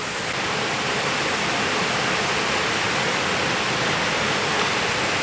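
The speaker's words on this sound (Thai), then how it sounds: "เจอน้ำตก โอ้น้ำตกเลยเห็นไหมน้ำตก" Steady, loud rush of a small waterfall pouring into a koi fish pond, a dense unbroken splashing roar that stays even from start to finish.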